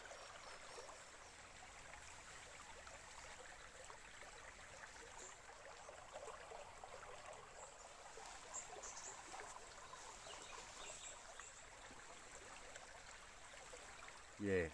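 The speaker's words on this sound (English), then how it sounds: "listening to the little stream flowing" A small river in Bunyip State Park, Australia, flows with a soft, steady trickle and babble, faint and continuous with no talk.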